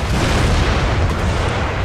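Cannon fire striking a fortress wall in the strategy game Empire: Total War, a dense, sustained low rumble of booms and impacts blending into one continuous heavy barrage with no talk.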